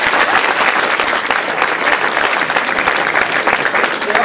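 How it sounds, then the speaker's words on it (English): An audience at a school debate on the EU referendum gives a steady, dense round of applause, loud and continuous across the whole stretch. "I'd like to give them all a nice warm round of applause,"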